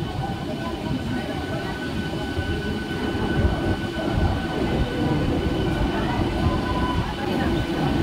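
A Howrah–Digha local train rolls into platform 2 at Digha station, a loud, dense rumble of wheels and carriages with a faint high squeal of braking wheels throughout.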